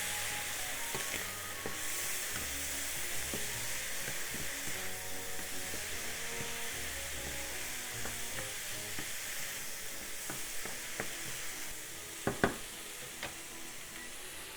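Buttery soy sauce corn with parsley stirred in a hot pan, a steady hissing sizzle with scattered light scrapes and a couple of sharper taps near the end, close and continuous, no talk.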